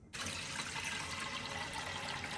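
A steady, moderate rush of warm water pouring into a pressure canner being readied for raw-pack chicken, starting abruptly and continuing without a break.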